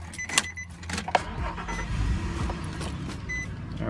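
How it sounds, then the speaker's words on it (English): A car engine cranks and catches, its low rumble swelling and then settling into a steady idle, with a few sharp clicks and knocks near the start and no talking. "Just start the freaking car now."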